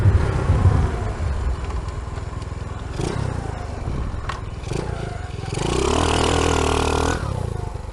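A small mini bike engine buzzes and revs on the street, with rattles and scrapes mixed in and a louder, steadier surge of throttle near the end.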